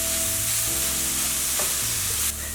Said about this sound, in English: it sounds more like it's frying now